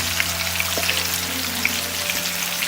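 Lahori besan-battered fish frying in very hot oil over a low flame, a steady close sizzle with scattered crackles and pops.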